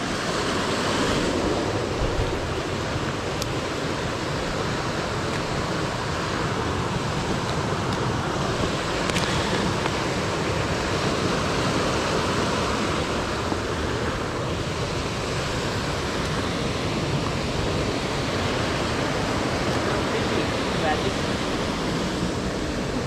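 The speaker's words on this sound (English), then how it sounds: "Just making our way along the river up to the waterfall." A river on a hike in the Otways, flowing up toward the Yannathan Falls; steady broadband rushing water fills the whole stretch, loud and continuous, with a couple of brief faint ticks.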